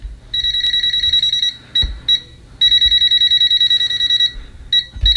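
A TESMEN TM-510 budget multimeter gives a loud, steady electronic continuity beep at maximum volume. It comes in several sustained tones, some long and some short, cut by brief gaps. Faint handling clicks sit underneath.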